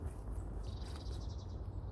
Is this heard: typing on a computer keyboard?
no